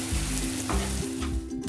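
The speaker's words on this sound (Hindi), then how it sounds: "अच्छे से मिक्स करके इसको थोड़ी देर पकने देंगे।" Spices with chili and cumin powder cooking in a pan for a chicken keema paratha, a close continuous sizzle broken by a few stirring scrapes, with background music underneath.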